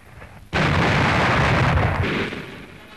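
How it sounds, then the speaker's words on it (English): Naval destroyers bombarding the mainland in archival wartime footage, a sudden heavy blast erupting into a sustained rumbling roar of shellfire that fades slightly toward the end, with no voices. "destroyers bombarded the mainland, their target here being an artillery observation post known as Windsor Castle"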